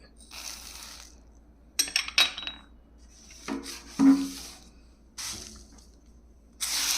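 Dry lentils, chana dal, urad dal and fenugreek seeds for a healthy green gram and ragi dosa batter are poured into a metal vessel, giving several short rattling clatters and clinks close by, with no voices.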